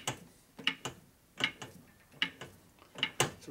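A hand press fitted with thrust needle bearings turns while pressing a part onto a 1992 Harley-Davidson 80ci Evo engine component, giving sharp metallic clicks and ratcheting bursts in an uneven rhythm, close and fairly quiet.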